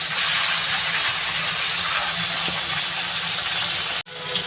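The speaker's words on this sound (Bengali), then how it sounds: "মাছটা বেশি একটু লাল করে ভেজে নেবো" Small chela fish fry in hot oil in a kadai until reddened, producing a loud, steady, close hiss of sizzling that holds evenly before briefly cutting out near the end.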